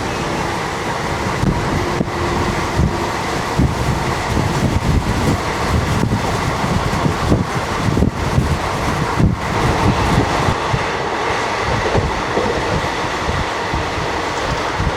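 A MEMU passenger train rolling into Ezhimala railway station in Kerala, a loud continuous rumble and rattle of wheels and carriages heard from on board, with wind buffeting the microphone and no speech.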